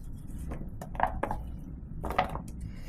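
Light ceramic clinks and soft scraping as sliced swede is slid onto another plate, a few close knocks in a quiet room.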